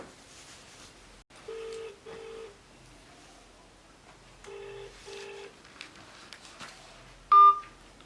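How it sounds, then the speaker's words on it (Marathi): Telephone keypad tones as a number is dialed: two paired beeps, a pause, two more paired beeps, then a short louder beep near the end, fairly clear over a quiet room background. "त्या सलीम शेटले फोन घेऊन लावा ना"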